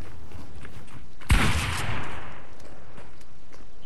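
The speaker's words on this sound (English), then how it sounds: "I'm gonna shoot you one more time" A single loud gunshot blast in the Fortnite video game, with a brief rumbling tail fading away, set against a quiet game background.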